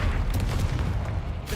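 A Bombarda explosion spell bursts in Hogwarts Legacy, a dense, rumbling boom with a low roar that fills the whole moment and fades slightly at the end, no voices over it.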